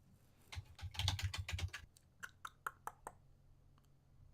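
Typing on a computer keyboard for a web search, a quick burst of dense key clicks followed by a few slower, separate taps, close and clear with no talking.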